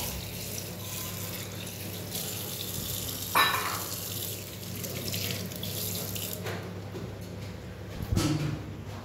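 Tap water runs into a kitchen sink while a bowl is rinsed and hands are washed, a steady hiss of flowing water with a clatter partway through and a splashy clunk near the end.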